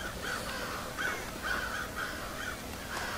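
Crows caw over and over in the Thief stealth video game, a steady series of harsh calls at a moderate distance against quiet ambient game sound, with no talking.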